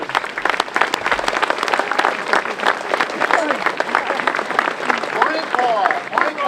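A Memorial Day ceremony crowd in North Hampton applauds Navy veterans with sustained, dense clapping that stays loud across the whole stretch, with scattered voices and whoops rising over it.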